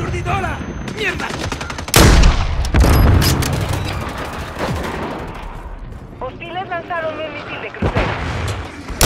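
A stun grenade detonates with a heavy boom in a hardcore-mode military shooter, set amid dense, continuous gunfire and clatter, with voices talking throughout.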